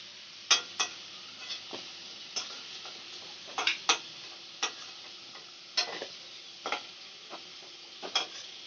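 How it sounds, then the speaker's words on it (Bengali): Potatoes frying in oil in a pan give a steady, soft sizzle broken by scattered sharp pops and clicks of stirring, with no voices. "আলুগুলো আমি লাল লাল করে ভেজে নেব।"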